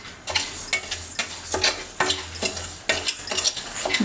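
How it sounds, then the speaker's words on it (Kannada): About a cup of rice dry-roasts in a pan without oil, heard as repeated scraping stir strokes and light rattling grains at an irregular rhythm, fairly faint and close, with no voices. "ಒಂದು ಬಾಣಲೆನ ಇಟ್ಕೊಂಡು ಒಂದು ಪಾವ್ ಅಕ್ಕಿನ ಫ್ರೈ ಮಾಡ್ಕೋತಾ ಇದ್ದೀನಿ. ಎಣ್ಣೆನ ಹಾಕಬಾರ್ದು, ಹಾಗೆ ಫ್ರೈ ಮಾಡ್ಕೋಬೇಕು."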